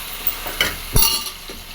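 A kilo of chicken is stirred and fried in a pan for chicken gravy: a few short scraping stirs over a light, steady sizzle, close by, with no one talking.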